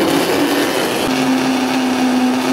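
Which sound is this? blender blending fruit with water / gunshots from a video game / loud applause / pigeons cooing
blender blending fruit with water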